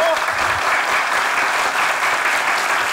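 A Turkish sketch-comedy studio audience applauds steadily for Hamza, a dense, even wash of clapping that fills the whole stretch at close range with no break.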